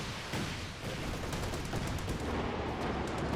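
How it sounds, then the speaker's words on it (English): Land Mattress rocket artillery barrage in Company of Heroes 2, a dense, loud roll of overlapping blasts and crackling impacts that continues without a break, with no talk over it. "And another land mattress barrage."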